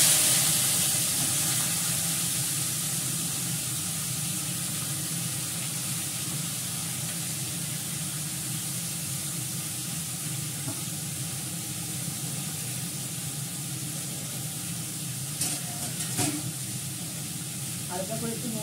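Washed vegetables dropped into a hot pan of oil tempered with five-spice, giving a steady, close sizzle and hiss that holds level throughout with a brief crackle near the end.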